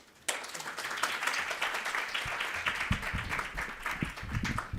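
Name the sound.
audience applause welcoming a speaker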